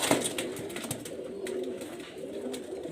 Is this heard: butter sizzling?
no